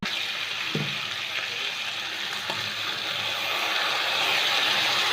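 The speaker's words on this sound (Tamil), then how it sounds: "இப்போ தேங்காவை நல்லா ஃபைனாக அரைச்சிட்டு இல்லையா, இதை அதை ஊற்றிடலாம்." Finely ground coconut paste is poured into vegetables cooking in a pot, giving a continuous wet hiss and splashing sizzle at moderate loudness with a few faint clinks.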